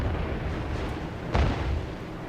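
Battleship gunfire in World of Warships, Amagi shots arriving as one heavy booming report over a steady rumbling battle background, fairly loud and close.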